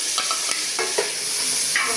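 Onion, ginger-garlic paste and green chilies frying in a pan for an okra curry: a bright continuous sizzle with a few spoon scrapes and taps, close and without talk.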